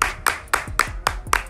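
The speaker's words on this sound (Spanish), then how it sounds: "vamos a aplaudirle." Podcast hosts clap their hands in a crisp, even rhythm: six sharp claps, close and clear, with no talking.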